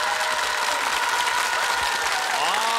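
A studio audience at a KBS television family game show claps loudly and steadily for the whole stretch, a dense wash of hands with a few voices calling out above it.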